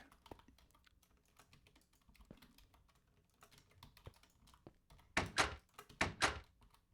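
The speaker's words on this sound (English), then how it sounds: "the door sound is, in fact, the door opening" In the game Ragecraft III, a door opens with two quick, fairly loud thudding bursts near the end, after a stretch of faint clicky background noise.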